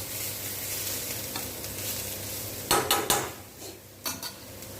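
Grated coconut sautéing in a pan, with a continuous sizzle and, partway through, several sharp scrapes and clinks of a spoon stirring against the metal pan.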